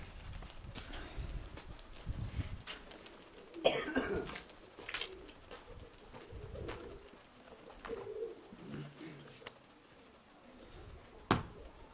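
Pigeons coo softly and repeatedly at close range, with a few coughs and throat-clearing sounds now and then and some scattered rustling.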